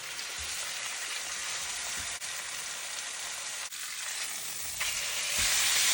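A ribeye steak sears in a hot pan, a dense, even sizzle close by that holds steady throughout and grows a little louder toward the end, with no talking.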